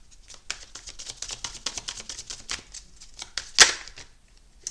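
Oracle cards are shuffled by hand in a quick run of close, crisp riffling flicks, ending with a sharper snap as a card is drawn, with no talking.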